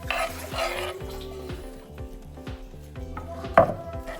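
Chopped coriander, tomato and capsicum being mixed into rava appe batter in a bowl, a close, quiet run of soft wet stirring with a low hum in the background and one sharp knock near the end.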